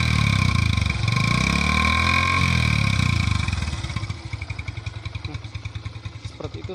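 Yamaha Byson motorcycle with a cut-down exhaust idles close by with a loud, throaty rumble that drops into an uneven, lumpy burble with rapid exhaust pulses.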